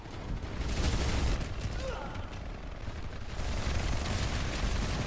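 Dense gunfire and a frag grenade explosion rattle through a base battle in the sci-fi shooter Planetside 2, a continuous loud fusillade of bursts with bangs, under in-game voices calling out.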